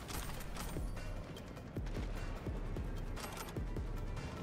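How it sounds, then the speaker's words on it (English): Gunfire in Cyberpunk 2077 comes as a run of repeated shots under a dense, loud, noisy game mix, with rapid bursts spread across the clip. "Who dares shoot at me?"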